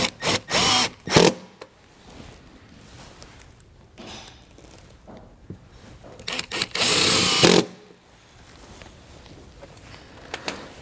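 During an RV observation camera installation, a power drill drives fasteners in several short, loud bursts. Each burst stops sharply, and quieter clicks and handling noises fill the gaps between them.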